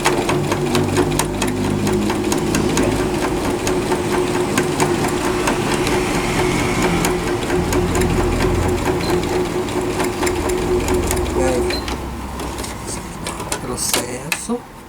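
Sewing machine topstitching fabric, running in a fast steady mechanical whir with rapid needle clatter nearly the whole time, close and loud, slowing and stopping near the end while a person talks over it.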